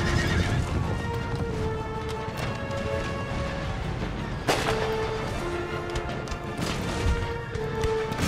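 Horses whinny repeatedly amid battle noise in Empire: Total War, with clopping hooves, crashes and distant mortar booms layered together in a busy, loud scene.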